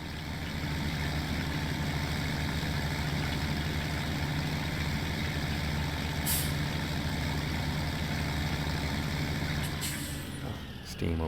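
A tractor engine idles in Farming Simulator 17, a steady low droning hum that holds throughout with a couple of brief hisses near the end.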